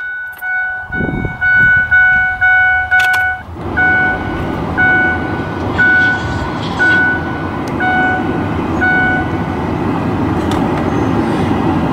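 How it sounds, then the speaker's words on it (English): A 2010 Ford F550 Super Duty XL flatbed truck with high mileage: several rhythmic starter cranks and chime tones, then the engine catches and settles into a steady, close diesel idle rumble. "So now we'll go ahead and start the engine."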